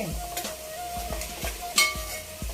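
Spices sizzle in hot oil for a fish curry while a metal spoon stirs and scrapes the pan, with several sharp clinks and a steady frying hiss close by.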